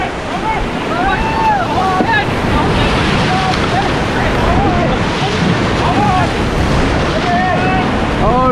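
A raft pushes through rapids on the Ganges between Shivpuri and Rishikesh, with continuous loud rushing whitewater and wind buffeting the microphone throughout, while people shout and call out in the background.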